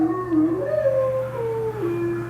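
A dog outside gives a drawn-out, mournful howling cry that slides up and down in pitch, heard steadily at moderate distance over a low background hum.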